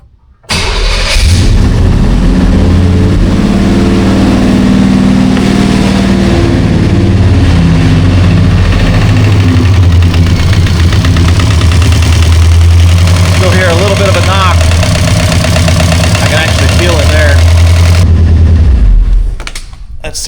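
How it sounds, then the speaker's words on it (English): A car engine cranks and starts, then settles into a loud, steady idle with a light ticking from valve interference against the valve cover, held in park with the brake on, continuous for about eighteen seconds before cutting off. "that noise is just valve interference with the valve cover"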